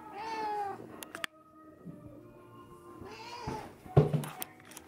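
A house cat meows up close in two separate calls, each a drawn-out, wavering cry with a short gap of quiet between them, followed by a soft thump.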